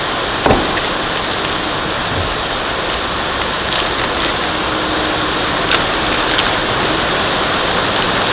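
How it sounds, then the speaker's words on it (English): Light rain falls outdoors beside an old, leaky Ferguson TEA20 tractor: a steady, soft hiss with a few faint knocks and taps. "Might be raining a little bit."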